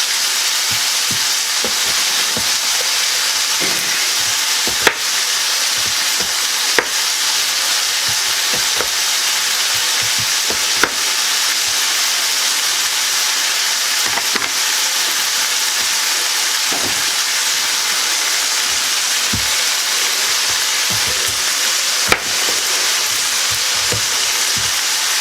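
Ingredients for a Guinness stew sizzle loudly in a pot, a steady dense frying hiss with scattered crackles and occasional sharp knocks of a spoon against the pot as they are stirred.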